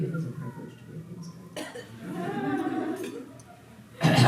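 A single big cough bursting out sharply near the end, loud and close, after a stretch of talking indoors.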